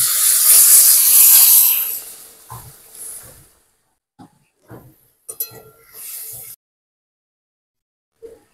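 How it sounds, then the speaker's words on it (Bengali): Water hits a hot pan of prawn curry (chingri macher jhal) with a loud, close sizzling hiss for about two seconds, then dies away into scattered faint clinks and brief bursts of steam. "এখন জল দিয়ে দেবো।"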